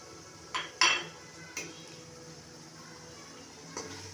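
Peas go into a cooking pot with potatoes for an aloo matar gajar dish, making a few quiet clinks and clatters of utensils against the pot amid soft kitchen background noise.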